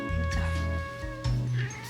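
A kitten gives a few short, close meows while a person talks softly over it.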